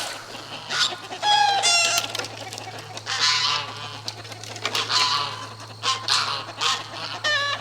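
Rhode Island Red chickens cluck and call in a yard, with repeated bursts of clucks and short squawks at moderate distance over a steady low hum.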